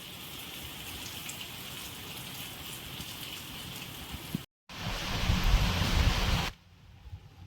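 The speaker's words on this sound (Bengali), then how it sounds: "রোদ্দুর থাকতে থাকতে বৃষ্টি" Rain falls steadily in a sunny afternoon shower, a dense even patter that briefly cuts out, returns louder and heavier, then drops to a soft hush.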